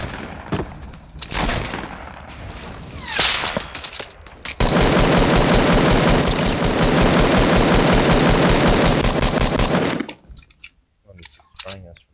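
Sustained rapid automatic gunfire in the video game Fortnite, a dense continuous burst lasting several seconds after scattered single shots, loud and close, with a player talking at times.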